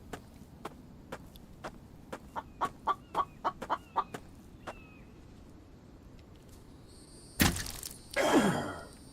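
Chickens clucking in a survival video game, a run of short rhythmic clucks and calls building up and then stopping, followed by two loud bursts of crunching, chopping noise from a chainsaw-wielding player.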